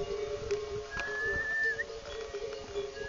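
Yak train on a misty trail, with a steady ringing of bells and a rising whistle from a yak driver partway through, set against a busy outdoor background.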